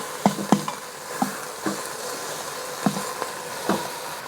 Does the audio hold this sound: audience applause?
no